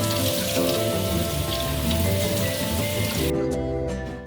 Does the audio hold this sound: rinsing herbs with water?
yes